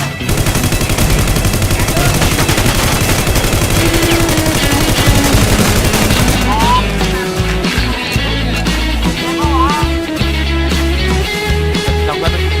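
Rapid gunfire from the video game SurvivalZ, loud bursts of automatic shots crackling densely for several seconds, then sparser single shots with game effects and music.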